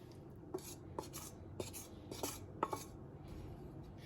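Onions and garlic stirred in a skillet, soft irregular scrapes and taps of a utensil against the pan over a low steady cooking hiss, close and quiet.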